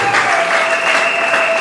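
A church wedding congregation applauds, loud close clapping over a sustained tone, with no talk during the burst.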